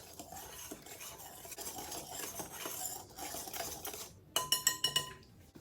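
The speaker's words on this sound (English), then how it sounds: "we're going to whisk the dry ingredients together until they're well combined" A whisk stirs dry waffle ingredients such as flour, baking powder and salt in a bowl, giving a quiet continuous scraping that ends in a few sharp metallic taps against the rim.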